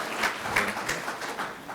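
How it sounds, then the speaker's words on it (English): A conference audience clapping during a talk on POLST registries, a brief burst of scattered applause that stays fairly even and moderate in volume. "Okay, go ahead, clap."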